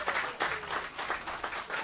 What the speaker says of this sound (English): Can we get a round of applause for 60 years?